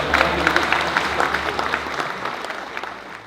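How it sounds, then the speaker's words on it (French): Audience clapping at an amateur football awards night, a loud sustained wash of many hands that gradually thins and softens toward the end. "Merci de faire un tonnerre d'applaudissements à Monsieur Yacouba Kamaté."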